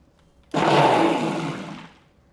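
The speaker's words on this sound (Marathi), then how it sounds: "आता हे पीठ यामध्ये घालायचं, पुरेसं पाणी घालायचं आणि मिक्सरला हे छान फिरवून घ्यायचं" A mixer grinder whirs to life, blending flour with water into a batter, a single roaring burst of about a second and a half that tapers off as it slows.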